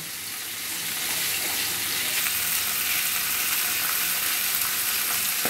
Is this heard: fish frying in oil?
yes